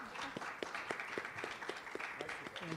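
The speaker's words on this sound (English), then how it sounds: "give a big round of applause to our panelists" Conference audience clapping for panelists at a health event in Las Vegas, a steady patter of many hands at moderate distance with a murmur of voices underneath.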